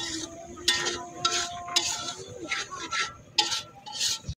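Whole spices fry in a pan after a splash of water is added while cooking boal fish and chicken, giving a soft continuous sizzle with repeated clinks and scrapes of stirring against the pan.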